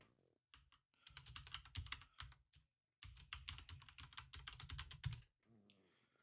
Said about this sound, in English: I'm just going to type test.